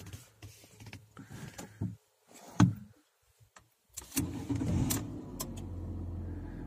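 A Ford car's ignition key turns with clicks and jingles, followed by a brief starter crank and the engine catching into a steady idle.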